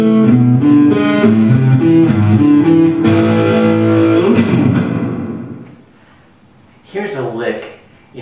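Slow arpeggiated chord inversions on a slightly overdriven guitar ring out close and loud, then fade away, and a voice briefly talks near the end.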